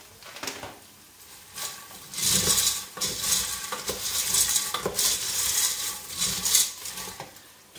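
Dry pasta toasts in a hot pan while being stirred, giving scraping utensil strokes against the metal and a light sizzle that come in uneven bursts, close and fairly loud, with no talking.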